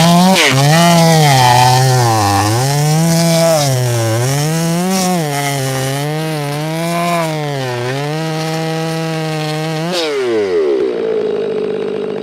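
Chainsaw cutting a felled pine log flat, its engine loud and close, pitch wavering as it bites and eases through the wood, then dropping off sharply near the end.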